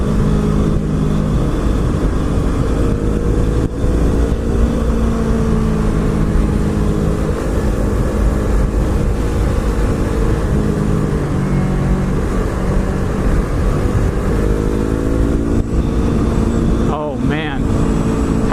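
A Yamaha R3 motorcycle rides along a rough road, its engine droning steadily and loudly throughout, with shifting engine pitch and wind rush, and a voice speaking over it.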